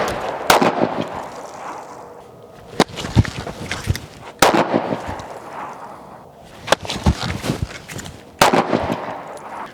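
Close-range pistol shots fired at dinner plates during a draw-and-fire drill, several sharp loud cracks spaced a second or two apart, with brief echoing tails and quieter handling noise between.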